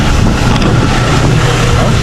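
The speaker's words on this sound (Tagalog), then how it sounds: "Lakas ng tubig mga kadoks." Strong water spray blasting at a car wash, a loud, steady hiss and roar of high-pressure jets that runs without a break and fills the whole moment.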